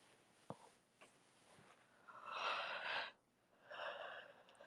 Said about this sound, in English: I know I'm yawning